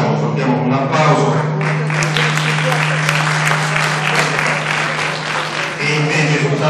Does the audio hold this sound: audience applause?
yes